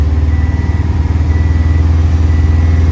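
A Subaru STI with an overheating problem idles at held-up raised RPM, a loud, steady engine drone with a constant low rumble and no change in pitch.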